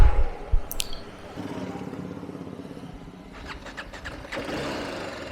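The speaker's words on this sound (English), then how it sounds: "hopefully I wish it starts so that I don't have to push start the bike" A dead-battery RR 310 motorcycle cranks and catches, with clicks and a starter whir leading into a low, steady engine idle that carries on, heard close.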